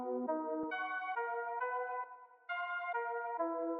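A sampled bell one-shot, Bell One Shot 6, steps through an arpeggiated pattern of bright, sustained tones that change pitch every half second or so, close and clear, with a short dip in level midway and no talking.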